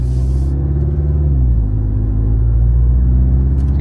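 A 2024 Toyota Tacoma four-cylinder with a MagnaFlow exhaust accelerates lightly, giving a loud, steady low rumble close by with a smooth rise in engine pitch.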